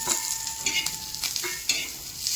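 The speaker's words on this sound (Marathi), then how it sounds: "खाली वर घालायचं. परतून घ्यायचं." A spatula stirs chopped tomato and masala as they sauté in a pan for a traditional village-style golyachi bhaji. Close, busy sizzling is broken by repeated scraping strokes, with no voices.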